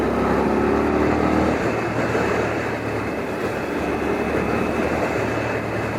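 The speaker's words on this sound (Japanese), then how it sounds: "それでは少しエンジンを回してみます。" A Honda Hawk 11 motorcycle runs in fourth gear at about 4000 rpm on a freeway, its low, steady engine drone nearly buried under a continuous, loud roar of wind and road noise.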